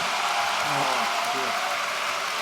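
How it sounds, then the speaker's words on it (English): An audience claps steadily in a broad, sustained wash of applause while a voice speaks briefly underneath. "let's give a huge round of applause for our speakers tonight."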